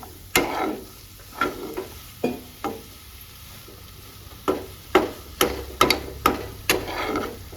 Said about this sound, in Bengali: তো অনেকক্ষণ ধরে নাড়তে হবে